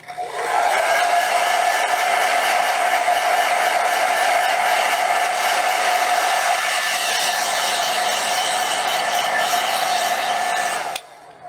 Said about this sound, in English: Okay, so again, blow dryer